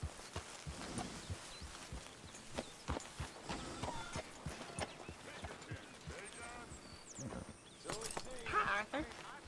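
Horse hooves clip-clop in Red Dead Redemption 2, a soft, fairly regular run of hoof falls at moderate distance, with people talking over them.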